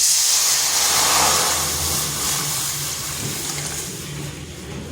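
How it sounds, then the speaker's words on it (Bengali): Water poured into a hot kadai (wok) hisses and steams loudly, a broad continuous rushing sizzle that slowly eases off over a few seconds. "ওই কড়াইতে দিয়ে দিচ্ছি জল"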